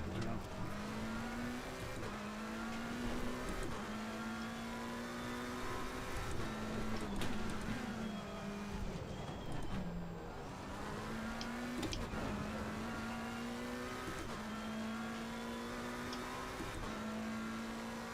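A race car engine in a racing video game at Oulton Park roars steadily up close, revving through repeated upshifts with a sharp drop in pitch at each gear change.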